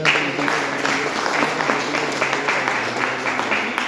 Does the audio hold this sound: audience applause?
yes